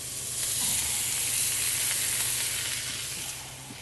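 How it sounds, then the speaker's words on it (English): A steak sears in a hot grill pan for the top of the meat after time in a 400-degree oven, giving a steady broadband sizzle that swells and then eases, close and fairly loud, with no voices. "it's going to take a nice sear to the top of the meat"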